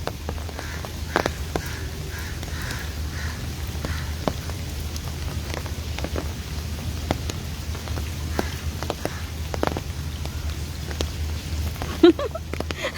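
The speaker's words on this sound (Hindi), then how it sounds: "तो अभी तो खैर मैं लाइव आपको बारिश दिखा रही हूँ।" Steady rain in Lahore patters continuously on a surface, with scattered droplet taps throughout and a brief sharper knock near the end; no voices.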